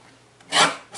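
Paper trimmed for a handmade card, a single short cutting swish that rises and fades, with a fainter second stroke at the end.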